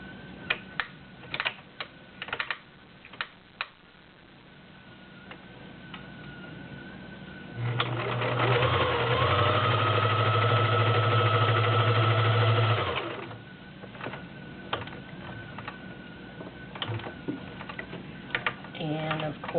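Vintage Kenmore model 1351 convertible sewing machine running a zigzag stitch, a steady loud mechanical whir of about five seconds between quieter clicks and handling noises.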